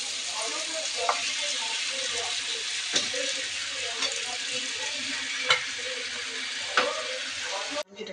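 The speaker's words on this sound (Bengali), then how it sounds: "মাংসটা কষিয়ে নেব।" Meat frying and being stirred with spices in a pan, a steady close sizzle with occasional scraping stir strokes throughout.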